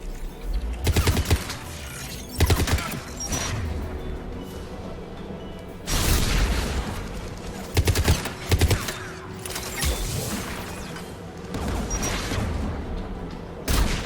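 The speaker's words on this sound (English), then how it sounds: "AA guns ahead of us." Heavy anti-aircraft gunfire in the Mass Effect 3 video game: repeated loud bursts and booming volleys over a constant rumbling battle din, with no talking.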